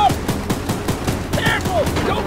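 Mounted gun firing rapidly in the Choo Choo Charles game, a fast, even rhythm of punchy shots close up for a couple of seconds, with shouting voices over the gunfire.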